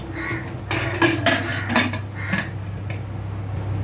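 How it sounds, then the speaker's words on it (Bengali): The metal lid of a pressure cooker is fitted and closed, making a series of close clanks and scrapes over about two seconds, with a low steady kitchen hum underneath. "কুকারটা আমি বন্ধ করে দিচ্ছি"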